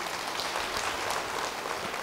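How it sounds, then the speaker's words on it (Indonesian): A church congregation claps together in a dense, even burst of applause that fills the room for a couple of seconds. "Beri tepuk tangan bagi dia."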